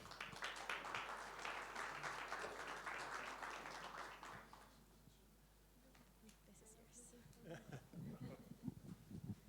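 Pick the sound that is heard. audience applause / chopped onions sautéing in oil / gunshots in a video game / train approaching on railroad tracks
audience applause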